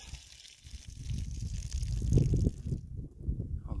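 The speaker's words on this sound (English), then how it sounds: "Do my best to get the heavies on the bottom and pour out" Water sloshes and pours out of a gold pan while panning hard rock gold ore, a soft, gurgling gush that swells and fades over a few seconds, close and fairly quiet.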